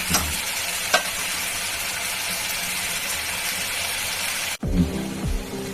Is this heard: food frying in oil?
yes